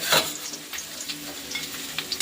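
Cauliflower pieces fry in a pan in a home kitchen, a soft steady sizzle broken by scraping stirs of a spatula at close range, with no voices.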